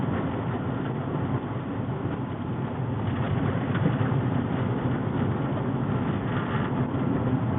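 A vintage car engine drones steadily in fourth gear, a smooth continuous rumble heard from inside the car with no pauses or talk.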